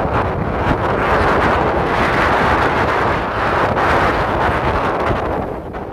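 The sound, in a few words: stiff breeze and waves hitting a harbor breakwater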